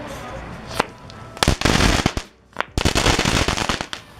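Crackling balls, a consumer novelty firework, go off in dense bursts of sharp crackles and pops, with a quick snap early on and then two sustained loud crackling volleys separated by a brief lull.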